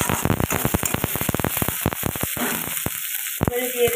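Chopped tomatoes and salt hitting hot oil in a pan, crackling and sizzling in rapid bursts of pops that thin out toward the end, close and fairly quiet.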